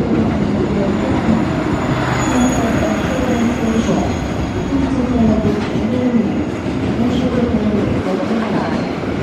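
The Argo Bromo Anggrek express passenger train in Indonesia rumbles steadily along the rails at high speed, with wheels screeching and squealing at a high pitch above the low, loud, continuous roll.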